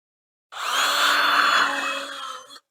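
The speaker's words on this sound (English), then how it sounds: "I'm going to drill these holes slightly bigger so that the screws will go down through it" A power drill bores screw holes for a simple router sled, a single loud, close whine that starts abruptly, holds steady for about two seconds and then cuts off, with no talking.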